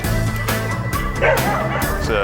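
A dog out in a park yips and barks loudly at close range, mixed with whimpering sounds in a continuous excited burst.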